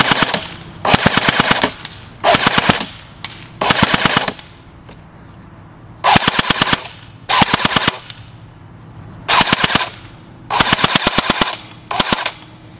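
An AGM full metal 614 airsoft gun fired fully automatic in loud, rapid bursts of about a second each, around nine bursts separated by short pauses, close and sharp with no voices.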